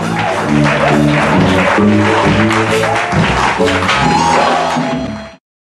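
Church congregation of women at a prayer gathering in Côte d'Ivoire erupts in loud sustained applause and acclamations with music and chanting voices throughout, steady and close for about five seconds before cutting off.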